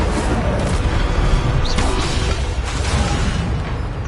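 A fiery Incendio spell blast in Hogwarts Legacy on PS5, a loud booming burst with crackling spell effects over a steady game soundscape, no speech.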